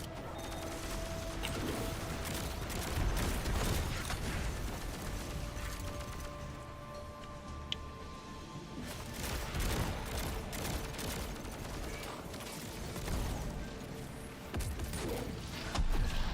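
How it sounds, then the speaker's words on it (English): Relocator cannon fire in Destiny 2 mixes with rapid mechanical weapon bursts and crashing impacts during a busy multiplayer match, loud and dense, with a brief lull midway and no speech over it. "the relocator cannon hits pretty decent"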